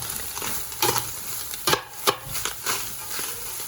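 Fresh garlic stirred in a pan with a spoon, giving a few soft scraping strokes over a faint, steady background sizzle, close by and fairly quiet.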